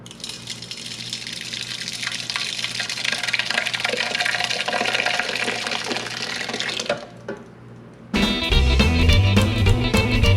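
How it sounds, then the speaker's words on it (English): Grape mixture being poured into a large stock pot for old-fashioned Concord grape jam, a steady loud gushing liquid stream that runs for several seconds, pauses briefly, then resumes with a clattering, splashing sound. "And I've got a large stock pot over here, so I'm just gonna pour it into that."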